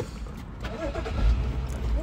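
A car engine turns over and catches, settling into a low, steady idle rumble close by.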